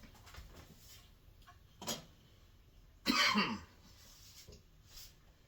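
A single loud cough from a person with a mild cold bursts out close to the microphone, preceded by a smaller throat sound, amid otherwise quiet background in a kitchen.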